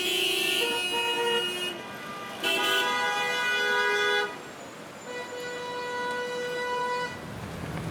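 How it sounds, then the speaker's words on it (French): Car horns honk in Mexico City traffic, with several loud, sustained toots overlapping and stopping and starting over a low rumble of road vehicles. "l'imposant parc automobile de Mexico et la nuisance sonore qui en découle demeurent un grave"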